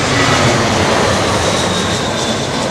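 An airliner lands in a gusty crosswind at Heathrow, its engines giving a loud, continuous roar with no break and no voices.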